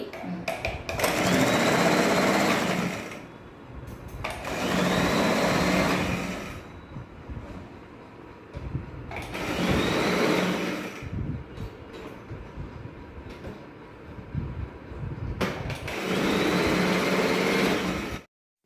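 Sewing machine stitching a blouse, running in four sustained bursts of steady whirring with short pauses between, loud and close with no talk.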